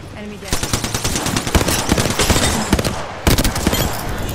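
Hemlock burst-fire rifle in the video game Apex Legends, firing loud, rapid clusters of shots in quick succession with a brief pause before the final bursts.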